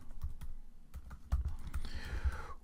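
Typing on a computer keyboard: quick, irregular close-up key clicks with a brief swish near the end.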